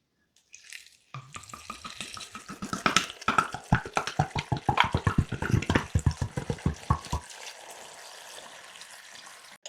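Water is poured into a pot over wood mushrooms being prepared for marinating, a splashing, gurgling stream that starts after a short pause, runs for several seconds and then tapers into a softer trickle.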